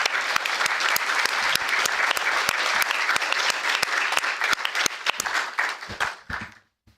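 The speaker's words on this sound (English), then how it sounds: "maybe we can give them a round of applause" An audience at a city council candidates' forum applauds the candidates, a steady, dense burst of clapping lasting several seconds before tapering off at the end.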